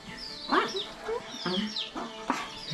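Several chickens cluck and squawk close by in an irregular series of short calls, with some low background noise.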